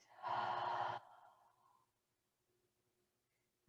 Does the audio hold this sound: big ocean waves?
no